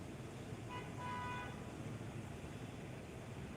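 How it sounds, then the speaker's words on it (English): Two short car horn toots in a row, faint and distant over a steady hiss of outdoor background noise. "And a double horn honk."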